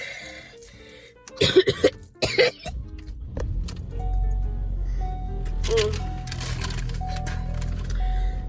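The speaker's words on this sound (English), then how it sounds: "not this cough again" A burst of several harsh, close coughs in quick succession from a sick person, followed by a low steady rumble and light shuffling handling sounds.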